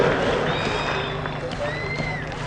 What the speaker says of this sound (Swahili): Tumkaribishe Mheshimiwa Rais kwa makofi.